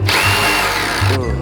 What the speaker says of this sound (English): You're trying to drill left-handed just now?